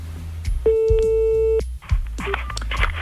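Telephone busy tone after a cut-off call, a steady electronic beep pulsing once clearly and loudly, followed by faint background noise and another short tone near the end.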